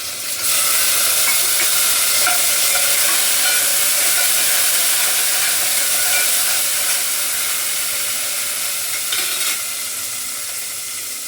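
Garlic, curry leaves and coriander crackle in hot oil for a spice tempering, a loud steady sizzle and hiss that fills the clip and eases slightly toward the end, with no talking.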